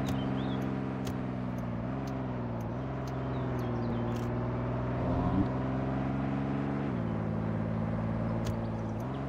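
A truck driving in the Roblox video game, a steady droning engine hum that shifts pitch a few times as it speeds up and settles, with no talk.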